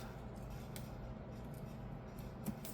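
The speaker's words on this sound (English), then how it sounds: "this one is sticking way up, and I'm just going to cut it off" Scissors snip through magazine paper flowers while trimming a craft tag base, giving a few faint, soft cuts spaced about a second apart over a quiet room background.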